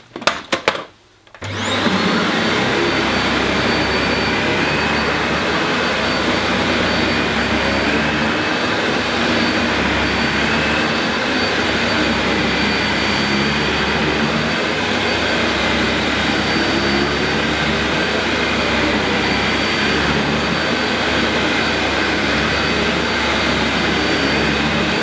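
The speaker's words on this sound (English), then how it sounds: "I'm just going to finish cleaning the rest of Daisy's hair up using the light ball on the plus suction" Dyson Light Ball vacuum cleaner on its plus suction setting, picking up dog hair, starting with a few short bursts and then running as a loud, steady, high-pitched whine close by.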